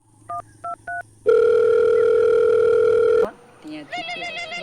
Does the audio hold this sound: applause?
no